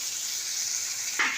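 Garlic, ginger and green chillies fry in a pan for a mustard prawn curry, giving a steady, close hiss of sizzling oil that swells briefly near the end. Nobody speaks.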